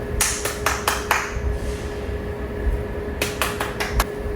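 A few hand claps come in two short bursts, about five sharp claps near the start and another five toward the end, separated by a quiet pause with a faint steady hum underneath.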